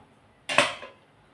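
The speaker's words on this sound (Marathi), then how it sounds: "इथे आपण आता गॅसवरती कढई ठेवू" A single metallic clank as a kadai is set down on a gas stove, a short close ring that fades within half a second in a quiet kitchen.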